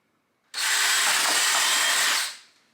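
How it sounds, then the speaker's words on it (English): A loud, close electric drill whirs steadily through a plastic cup in one continuous burst of about two seconds, then winds down. "you let the drill do most of the work for you"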